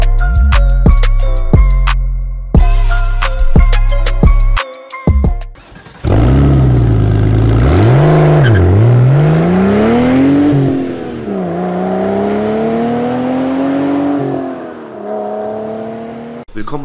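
After a few seconds of plucky intro music, a Honda Civic VTEC engine revs hard, its tone swooping up and down through repeated climbs before settling into a sustained high wail close by.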